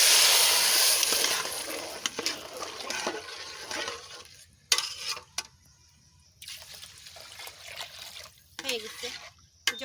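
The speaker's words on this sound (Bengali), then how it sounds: "চাল ভাজি নিছি এইবারটা জল দিয়ে" Water is poured onto rice frying in a pot, a loud gushing splash at first that fades into scattered bubbling and stirring, with a voice speaking in places.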